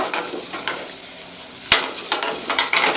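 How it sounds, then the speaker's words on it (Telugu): Broken dried red chillies sizzle and crackle in hot oil over a low flame, with soft stirring and scattered sharp pops and clinks throughout. "ఎండుమిరపకాయలు తుంచుకుని వేసుకుందాం సిమ్లోనే ఫ్రై చేసుకోవాలి"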